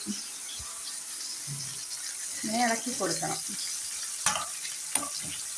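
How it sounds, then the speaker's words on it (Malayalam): Potato fry sizzling in a pan while being stirred, a steady frying hiss with a few scraping knocks, and a voice talking briefly over it. "നമ്മളത് ആവുന്നവരെ ഇങ്ങനെ ഇളക്കി കൊടുക്കണം"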